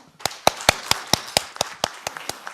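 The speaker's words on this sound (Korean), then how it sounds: "박수와 함께 포럼 시작하겠습니다." An audience applauds to open a broadcasting forum, with about a dozen separate sharp claps in a steady rhythm, close and fairly loud, and no one speaking.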